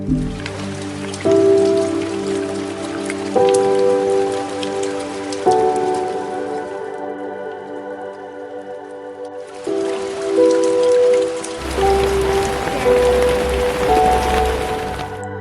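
Heavy monsoon rain pours loudly and steadily onto the high cliffs of Malshej Ghat in Maharashtra's Western Ghats. A dense, continuous downpour wash runs with a melodic tonal layer beneath it.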